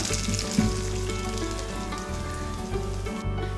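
Tempering of curry leaves, dried red chillies and a little asafoetida for a pearl millet chilli chutney crackles in a steady, moderate sizzle with a low hum beneath and a brief clatter near the end.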